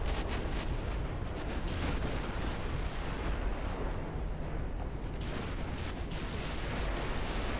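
A torpedo detonates against a battleship in the naval video game Ultimate Admiral Dreadnoughts, giving a sustained, heavy, roaring rumble of explosion and churning water that stays loud throughout.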